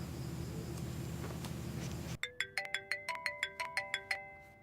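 A telephone ringtone rings in a repeated melodic pattern of about a dozen sharp tones, loud and close, after a stretch of low indoor background noise.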